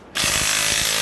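Small impact wrench on a Showa air fork, loosening the four 10mm tension bolts: a sudden loud, sustained buzzing rattle with repeated hammering pulses, close up and alone.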